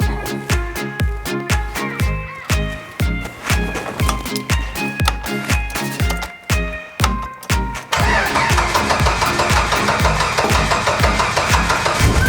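A 1992 Jeep Wrangler YJ with a 4.0L engine that has sat unused for a long time cranks in a long, rhythmic series of starter turns before catching and settling into a steady, loud idle.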